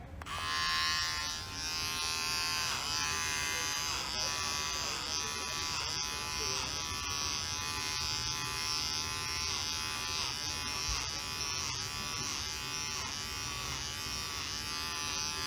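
Electric hair clippers fitted with a 6 millimeter guard cutting a man's hair, a steady close buzzing drone throughout with faint rhythmic changes as the blades pass through hair.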